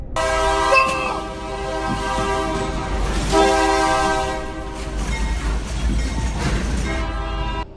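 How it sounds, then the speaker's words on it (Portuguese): A red locomotive sounds a loud, sustained multi-tone horn while approaching at speed, its heavy rumble beneath, ahead of a collision at a rail crossing, close and dominant throughout. "uma locomotiva vermelha surge sem qualquer chance de evitar a colisão"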